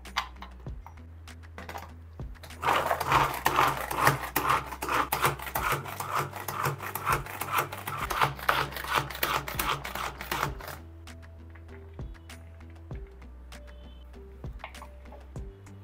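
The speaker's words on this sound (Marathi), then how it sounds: "आणि आता गाजर सुद्धा बारीक चॉप करून घेऊया." A knife finely chops carrots on a board: a fast, dense run of crisp taps for about eight seconds, then a few scattered cuts, all over a low steady hum.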